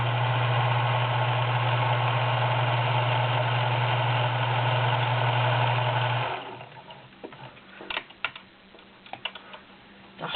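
A serviced Kenmore 1782 convertible sewing machine runs a straight stitch with a steady droning motor hum and needle chatter for about six seconds, then stops, leaving faint clicks and handling noises.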